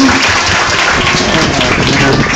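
Loud, continuous clapping from a crowd at a Mother's Day school dance show, a dense wash of applause filling the short moment without pause.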